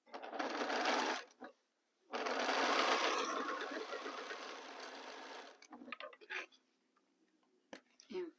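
A sewing machine joins rows of quilt fabric pieces in two bursts, a short one and then a longer run, followed by scattered clicks, fabric handling and a brief voice.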